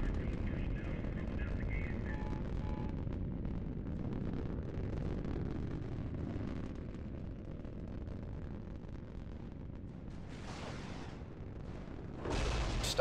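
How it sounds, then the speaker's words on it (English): Missile launches and blasts in a 4v4 rocket shuttle match on the Tumbleweed map, a continuous low rumbling roar with a few sharp bursts near the end, heard fairly faint. "Missile on the way."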